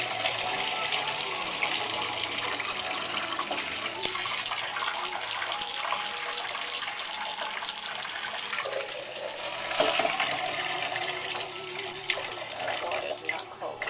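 A tap runs steadily into a sink or tub while a cat is being bathed, a continuous hiss of splashing water with a person talking softly over it.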